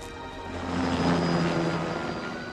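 A helicopter drones overhead, its engine hum swelling as it passes nearby and then fading slightly, with no talking.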